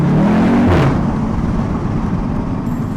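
A 2015-on Audi TTS MK3 engine revs loudly up close, a strong rising rev burst early on settling into a steady throaty drone with no talk.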